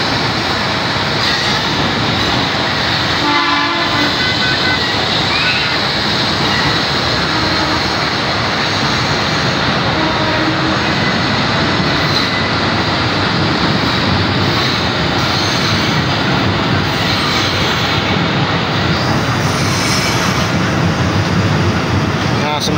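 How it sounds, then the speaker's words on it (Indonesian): KRL commuter electric train pulling out of Manggarai station, heading north: a steady, loud broadband rumble and rush that holds for the whole stretch without breaks, with a brief voice partway through. "KRL sudah diberangkatkan dari stasiun Manggarai menuju ke arah utara ya"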